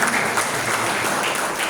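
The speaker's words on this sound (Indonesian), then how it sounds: "Tepuk tangan untuk Kokam Bundong." A crowd at an Indonesian religious study gathering applauds in a brief, dense burst of steady clapping that stays loud throughout.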